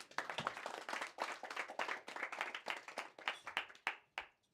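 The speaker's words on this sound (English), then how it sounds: "You clap for that." Hands clap in a busy, uneven patter from an audience at an annual general meeting, fairly close and fading out at the very end.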